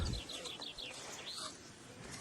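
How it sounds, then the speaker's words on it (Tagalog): Faint birds chirp in a quick series of short, high calls over quiet outdoor background, fairly distant. "Ayan ang mga huni ng ibon."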